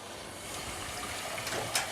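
Tap water runs over freshly cooked noodles being rinsed in a Chinese takeaway kitchen, a continuous splashing gush with a brief louder splash near the end.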